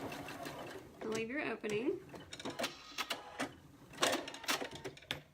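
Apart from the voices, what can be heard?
sewing machine doing a back stitch on a patchwork pin cushion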